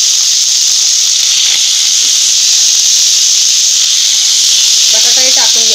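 Soaked chana dal hits a hot kadhai and sizzles in a loud, steady, close hiss that fills the whole stretch, with a faint voice briefly audible near the end.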